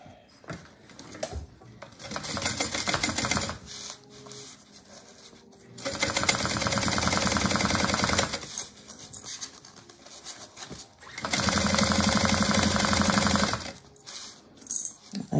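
Sewing machine stitching a 3/8-inch seam on a Sequoia bag with foam stabilizer, running in three long, loud bursts separated by short pauses filled with quieter handling noises.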